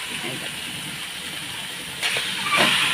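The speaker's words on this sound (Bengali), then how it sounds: "এখন আমি সব ম্যারিনেট করা চিকেনগুলো ঢেলে দেবো" Marinated chicken poured into a hot pan, a loud broad hiss that swells sharply partway through as the sizzle intensifies, close by.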